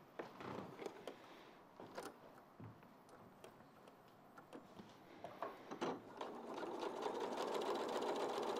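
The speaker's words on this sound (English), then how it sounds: "I'm going to sew 1/4 inch either side of the drawn line" A sewing machine runs steadily, stitching fabric a quarter inch either side of a drawn line for quilt blocks, its soft mechanical whir quiet and close, rising and continuing toward the end.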